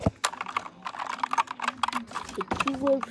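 Typing on a mechanical keyboard with black switches, a steady run of sharp, close clacks in uneven rhythm, with a few soft sounds in between.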